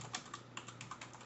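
Rapid, light keystrokes on a computer keyboard, a quick irregular run of close, crisp clicks lasting about a second, with no talk over them.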